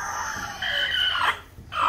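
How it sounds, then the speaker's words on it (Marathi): A broody hen sitting on eggs gives drawn-out, nasal clucking calls close by, with short pauses between them. "तर ही आपली कोंबडी बसवलेली 3 तारखेची आहे"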